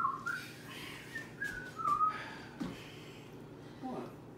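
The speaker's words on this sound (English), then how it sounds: "I'm sure some people don't want to hear all that crazy whistling in there" A person in a home kitchen whistles a wavering tune in short, meandering phrases over a faint background hum. The whistling is fairly quiet, with brief pauses between bursts.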